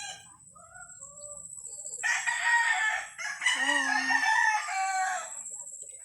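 Roosters crow loudly and close at a poultry farm, two long overlapping calls filling several seconds, with softer clucks and other fowl calls around them and no talking.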